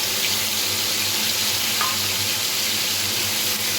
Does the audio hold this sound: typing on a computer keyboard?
no